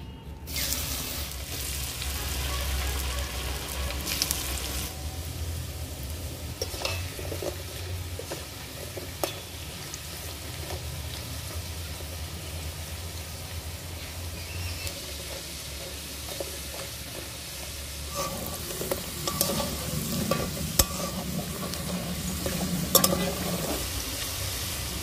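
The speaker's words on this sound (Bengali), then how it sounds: "এবার আলুগুলোকে ভেজে নেব।" Cornflour-coated potato sticks for French fries deep-fry in oil with a continuous close sizzle. Occasional stirring scrapes and brief louder bursts rise from the steady hiss.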